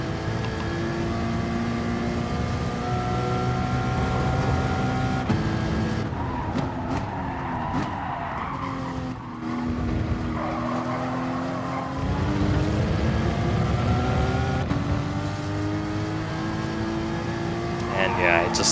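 A GR4 race car engine in Gran Turismo Sport at Dragon Trail Gardens, droning steadily and rising and falling through gear changes, with some tyre squeal along the way.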